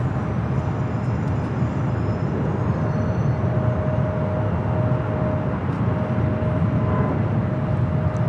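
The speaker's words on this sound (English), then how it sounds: "This takeoff is Alaska Airlines 332 taking off to Los Cabos on the MAX 9." Alaska Airlines Boeing 737 MAX 9 taking off at LAX, a loud, steady jet engine roar that holds constant throughout with a faint whine above it.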